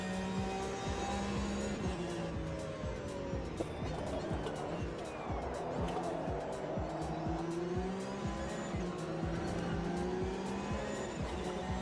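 Rear tyres squealing on a car in a sim racing video game; a long, wavering tyre squeal over a steady engine drone continues throughout, loud and constant, with no pauses.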